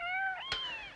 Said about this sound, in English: Just, like, cats everywhere.